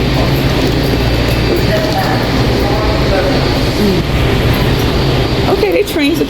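Steady, loud rumble and rattle from inside a Washington DC Metro Red Line train heading to Glenmont, continuous throughout, with muffled voices or an announcement mixed in.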